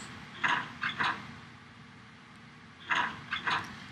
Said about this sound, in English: Using the exact same sound effect for all 4 doors.